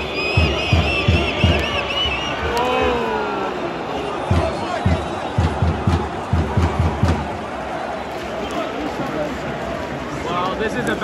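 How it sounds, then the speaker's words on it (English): A Turkish football crowd at a Fenerbahce match chants in unison with rhythmic pounding beats, loud and continuous, the massed voices rising and falling throughout. "it sounds like every cheer is different than the last"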